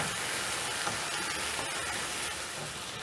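Spices and tomatoes cook in a pot with a steady, close sizzling hiss and faint stirring scrapes, continuous and without talk.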